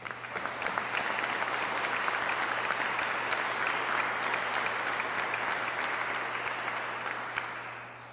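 A news-conference audience gives sustained, dense applause for pipeline contractors and workers. It holds an even roar for several seconds, then tapers slightly near the end, with a low steady hum beneath.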